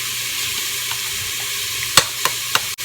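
Celery and garlic sizzle steadily in an Instant Pot on sauté, a constant hiss broken near the end by a few sharp clicks and scrapes of stirring, close with no talking.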